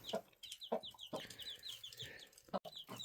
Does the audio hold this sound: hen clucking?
yes